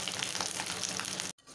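Spice masala for a mutton dish cooking in a pan, a steady bubbling sizzle with soft crackles, cutting out abruptly near the end.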